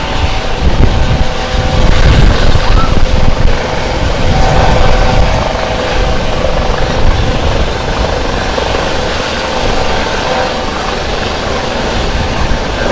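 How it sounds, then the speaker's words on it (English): A helicopter hovers over the deck of the NCL Getaway cruise ship on a sea day. Its loud, continuous rotor roar comes with gusty downwash buffeting the microphone throughout. "We're getting the prop wash from the rotors."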